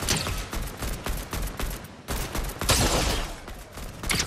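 Rapid bursts of video game gunfire crackle loudly in quick repeated volleys, a dense fusillade of shots from someone firing at the player, continuing with brief pauses throughout.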